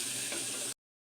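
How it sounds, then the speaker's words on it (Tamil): Bay leaf, cinnamon and cloves sautéing in hot oil in a pan for cashew pulao, a short steady close sizzle that cuts off abruptly into silence. "எல்லாத்தையும் சேர்த்து நல்லா வதக்கிக்கலாம்."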